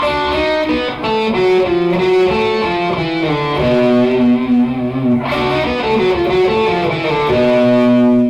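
A distorted electric guitar plays a quick melodic lick, notes ringing with heavy overdrive and sustain, loud and up close.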